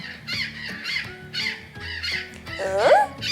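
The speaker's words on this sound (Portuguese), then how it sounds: "esse som é o som da gralha azul" A harsh, raspy azure jay call rises near the end over a busy mix of background voices and low hum; other squawky calls blur into the noise.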